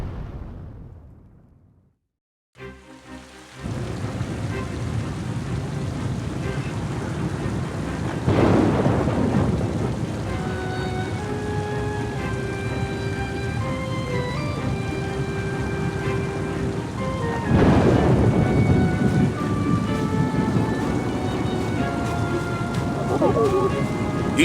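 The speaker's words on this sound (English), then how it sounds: "It began on a dark and stormy night" Steady heavy rain from a thunderstorm in the video game Oceanhorn 2, with two deep rolling thunder peals rising out of the downpour partway through.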